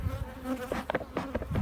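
Honeybees swarming around an apiary hive while an artificial swarm is being made, a close, wavering buzz with rising and falling wingbeat tones, no voices.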